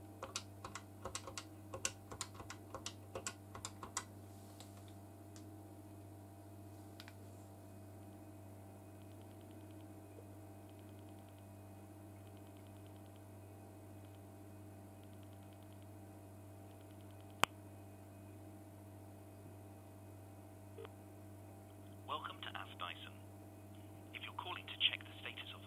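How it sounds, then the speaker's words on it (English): Pulse-dialing clicks in the receiver of a 1985 BT Mickey Mouse telephone: a rapid series of faint clicks over a steady electrical hum, then a long quiet stretch with the hum continuing and a few later chirps. "you will continue to hear the pulses in the receiver"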